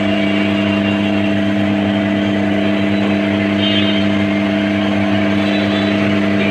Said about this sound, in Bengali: এখানে ফুল মোটরে কমান্ড দিচ্ছে এই পিএলসি।